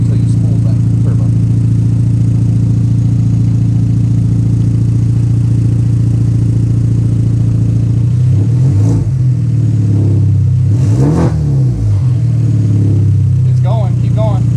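A 2013 Hyundai Genesis coupe with an RFL turbo blow-off valve idles loudly and close up, then revs in several rising bursts with a sharp release after them, while voices talk nearby.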